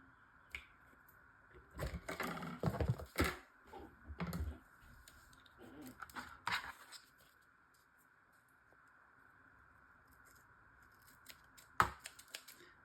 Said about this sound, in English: on this side we need to just do a quick trim